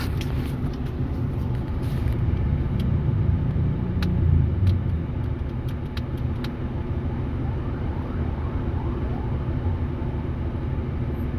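Stop-and-go road traffic jam in San Pablo, with a dense, steady low rumble of car engines and faint, brief siren-like tones rising at intervals above the idling traffic.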